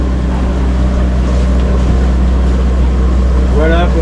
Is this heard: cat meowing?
no